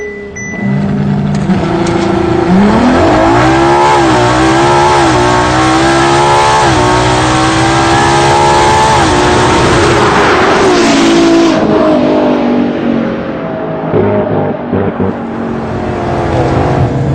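A 2015 Ferrari LaFerrari launches hard on a drag run, its engine howling up through rapid gear changes with rising and falling pitch for about ten seconds, loud and close, before easing off into a fading drone.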